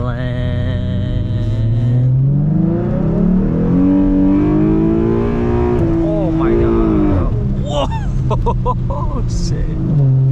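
A widebody Dodge Scat Pack drives and slides on a rainy road, its engine droning loudly as revs climb and fall, with squeals and sharp bursts near the end, while occupants talk over it.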